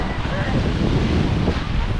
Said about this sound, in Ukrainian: Сьогодні чисте, тепле море, хвилі такі, що подобаються дітям.